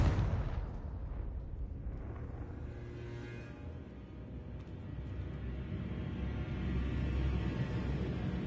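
The Confringo explosion spell in the video game Hogwarts Legacy, a loud blast at the start that decays into a long, low rumbling roar lasting several seconds.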